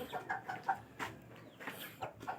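A two-month-old dark chocolate-colored chicken clucks in a quick series of short, close calls, with soft rustling between them.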